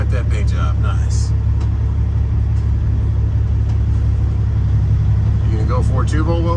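A Peterbilt truck rolls past at close range, a loud, steady rumble of engine and road noise that fills the whole stretch, with a voice talking briefly over it.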